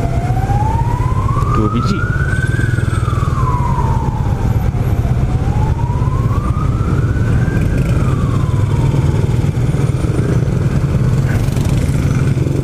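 An ambulance siren wails in slow rising and falling sweeps as it passes along a road at the scene of a motorcycle accident, heard over a steady low engine rumble from a motorcycle ride. One person speaks briefly.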